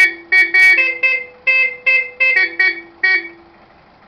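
A Bosch Macho car horn honks in a rapid series of about nine short, loud blasts with uneven spacing, close by.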